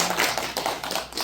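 An audience at a New Year gathering and guest lecture applauds at the close of a 30-minute talk, a dense, even patter of many hands clapping nearby.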